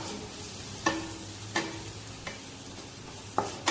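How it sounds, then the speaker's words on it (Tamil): Sautéed greens tossed with grated coconut in a pan, a spoon scraping and clacking against the metal about five times in an uneven rhythm over a soft, steady sizzle, close and with no voices. "இப்போது தேங்காய் துருவல் ஆட் பண்ணிக்கலாம். நல்லா கலந்து விடுங்க."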